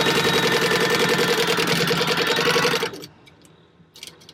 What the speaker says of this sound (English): it to the sewing machine, and at 1/4 of an inch we're going to sew down this side